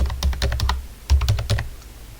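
Fingers type on a computer keyboard, a word entered in two quick clusters of crisp, close keystrokes with a short pause between them.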